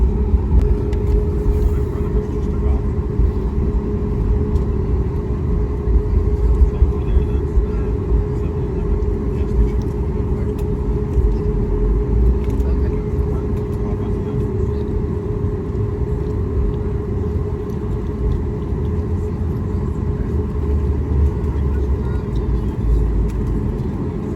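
An airliner's engines drone in a loud, continuous cabin rumble with a steady tonal hum while lining up and starting its takeoff roll on runway 28, with no clear speech over it.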